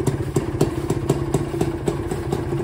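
A motorcycle engine running just after being started with the choke pulled, a steady rhythmic thumping idle with regular clattering pulses, close and moderately loud.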